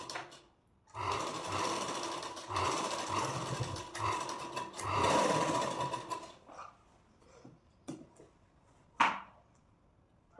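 A sewing machine stitches the curved back neckline of a princess-cut deep-neck blouse, running in several steady bursts of a few seconds each, then a few short clicks and stops near the end.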